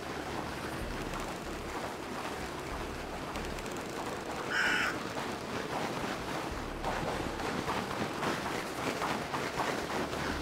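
Crows cawing in a video game, one clear caw standing out near the middle above constant wind-like outdoor ambience, other bird calls faint in the background.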